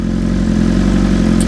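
A 2025 BMW S1000RR sport bike with an aftermarket full exhaust system rumbles close by, a loud, deep, steady engine drone with no talking.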